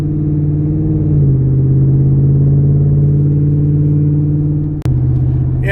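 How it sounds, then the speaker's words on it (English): A vehicle engine rumbles steadily on a busy rural road, a loud continuous drone close by with a brief sharp knock near the end. "And the amount of traffic's on it is horrendous."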